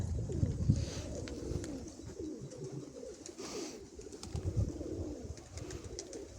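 A flock of about 25 to 30 pigeons cooing in soft, low repeated calls, several birds close by, with a steady murmur of coos layered over one another and no talk.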